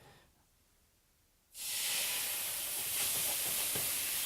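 Soy sauce and ginger mixture hits a hot steak pan to deglaze it, bursting into a loud, steady sizzling hiss after a quiet start and continuing without talk.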